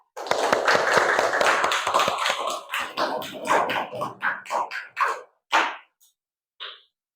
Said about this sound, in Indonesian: Tepuk tangan untuk Mbak Firda, Rehan, dan